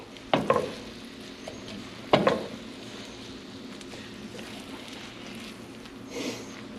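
An egg frying in a pan, a soft steady sizzle under two sharp scrapes of a spatula folding it, then a quieter scrape near the end, close up and with no talking.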